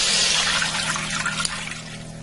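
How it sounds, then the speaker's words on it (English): Four cups of water dumped into the bottom of a Ninja cooker pot that is warming on the stovetop setting, a steady close splashing pour that runs for about two seconds with no talking. "I'm going to dump 4 cups of water in the bottom of it."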